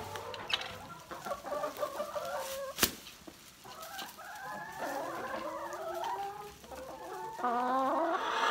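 Several hens in a chicken coop cluck and chatter continuously nearby while picking at hay, with a sharp knock partway through and rising, overlapping calls toward the end.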